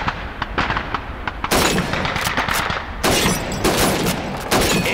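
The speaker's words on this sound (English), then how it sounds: "Shoot those bottles and plates." Rifle shots fired at bottles and plates on a shooting range in the war game Call of Duty 2, heard as dense, loud crackling bursts of gunfire and impacts that come in waves without speech.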